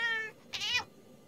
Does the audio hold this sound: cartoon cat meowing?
yes